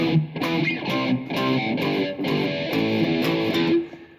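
A distorted electric guitar plays a choppy, rhythmic riff of repeated chords and short notes, loud and up front with no voices.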